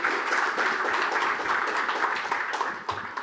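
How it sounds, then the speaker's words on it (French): Audience applause at an evening talk with a decolonial author and film producer, dense sustained clapping from a seated crowd throughout, fairly loud and even, with no voices standing out. "Applaudissez-les, applaudissez."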